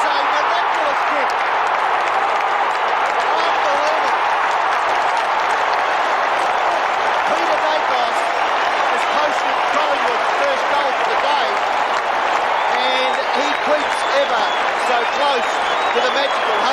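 Collingwood crowd at an Australian football match roars and applauds a goal, a dense, steady wall of clapping and cheering that holds loud and unbroken throughout, with no lulls.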